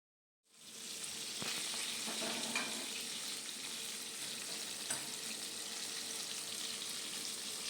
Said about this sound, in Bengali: মাছগুলো বেশি ভাজার দরকার নেই